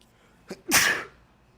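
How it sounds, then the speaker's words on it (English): A single sharp sneeze, preceded by a brief intake of breath, close and loud, then quiet. "I'm gonna sneeze."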